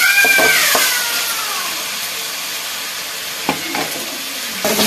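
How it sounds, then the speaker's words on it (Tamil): Tomatoes sauté in a pan for soya gravy, a loud, steady sizzle at first that eases to a softer hiss, with a few brief clatters of stirring. "தக்காளி நல்லா வதங்கிருச்சு, நல்லா வதங்கிருச்சு."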